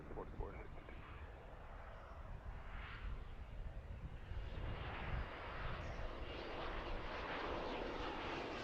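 An airplane flying in from Pittsburgh toward Philadelphia airport, heard from Fort Mifflin at golden hour: a broad jet engine roar building steadily from distant to nearer and louder, with wind noise on the microphone.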